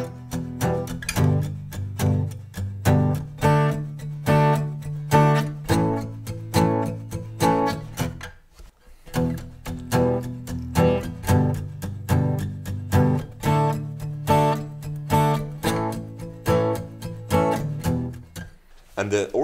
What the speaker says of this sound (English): In the outro, we have to play the same chords, but the strumming pattern is gonna be different.